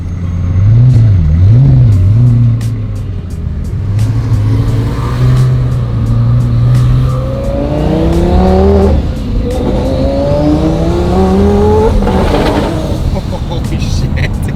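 A car engine rumbles at low idle, then revs up with rising pitch as it accelerates, loud and close, with faint voices underneath.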